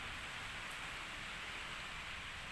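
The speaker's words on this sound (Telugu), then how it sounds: "కొంచెం రెయిన్ సౌండ్ వస్తే ఏమనుకోకండి, ఇటు సైడ్ వాన పడుతుంది." Rain falling outside a house, a faint, even hiss of steady rainfall with no distinct drops or voices, continuous throughout.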